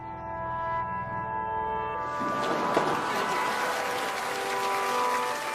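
Sustained applause at an auction after a record Van Gogh sale swells into dense clapping from a large crowd, rising over a fading sustained tone and continuing steadily to the end.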